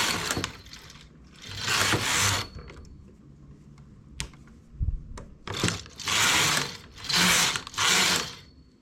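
A knitting machine carriage makes a capa, sliding across the bed in repeated rasping, whirring passes, several in quick succession, with short clicks and knocks between them.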